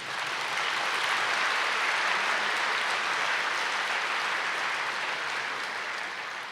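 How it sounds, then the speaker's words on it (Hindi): Audience applause at a spiritual gathering, a steady crowd of clapping hands that holds evenly for several seconds and tapers slightly at the end, with no talking over it. "इन सब की खुशी में एक बारी ताली बजा दो।"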